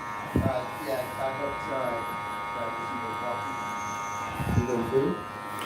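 Andis Master electric hair clippers keep up a steady close buzz with a tonal hum through a fade haircut, while someone talks over the sound throughout.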